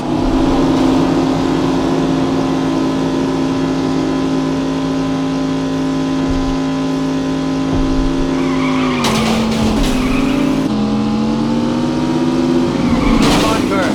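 Racing car engines in The Saboteur video game drone steadily at high revs, with tires squealing and skidding, and a voice speaks over the loud continuous roar.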